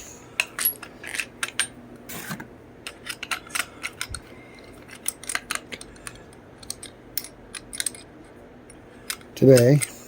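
Metal bolts and nuts clicking and clinking in short irregular bursts as they are fitted through a chainsaw bar debarker, close and crisp, with a brief voice near the end.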